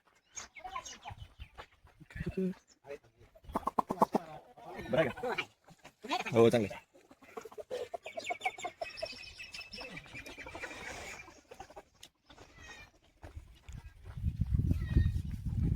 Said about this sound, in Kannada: ಎಲ್ಲ ಮನೆ ಮುಂದೆ ಕೋಳಿಗಳು ಸಾಕೊಂಡು.